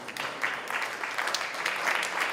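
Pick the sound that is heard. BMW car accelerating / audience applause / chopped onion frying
audience applause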